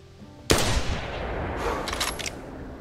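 A single sharp rifle shot at an animal in the hunting game theHunter Classic, loud and close, followed by a long rolling echo and a few faint clicks as the sound dies away.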